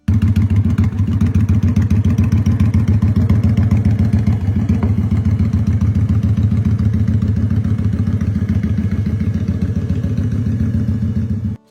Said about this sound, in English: equipped with a Vance and Hines exhaust that roars with a deep, commanding tone